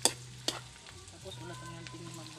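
Ginger and onion sizzle in a pan while being stirred, with two sharp utensil knocks at the start and a low hum in the background.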